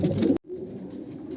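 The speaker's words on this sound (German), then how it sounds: "die Tauben sind alle soweit angepaart" Pigeons cooing during pairing season in a loft, a close, dense run of low throaty calls that cuts out abruptly, then softer cooing continues in the background.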